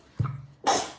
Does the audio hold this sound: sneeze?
yes